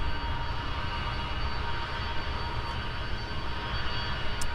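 A diverted jet from San Diego taxis on the ground at Minneapolis–Saint Paul airport, its engines giving a steady, distant broadband roar that holds constant throughout with no voices.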